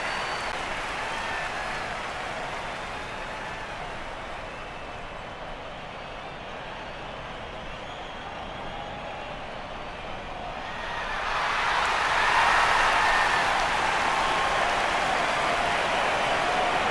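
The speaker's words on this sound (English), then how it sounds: "The home team comes onto the ground and the crowd erupts." A large stadium crowd roars steadily in the video game AFL Evolution as the home team takes the ground, swelling louder partway through into a sustained, dense cheer with no voices standing out.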